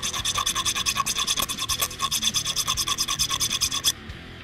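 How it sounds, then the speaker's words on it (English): A metal file rasps back and forth across the sharp cut edge of a hose clamp during a Roush supercharger kit install, with fast, even, loud strokes up close that stop abruptly near the end. "If you're left with a sharp edge, you wanna file it down"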